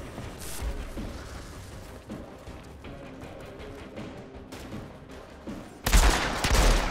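Gunfire in Outriders during a solo Devastator campaign fight at the Grand Obelisk's Forgotten chapel: rapid close shots crackle through the clip, then a loud heavy burst erupts near the end.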